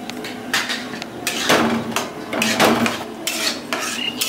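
A spoon stirs a powdered milk and water mixture in a metal pan, making repeated close scraping and clinking strokes of uneven rhythm, fairly loud, with no speech.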